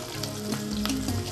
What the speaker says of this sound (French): l'oignon est en train de cuire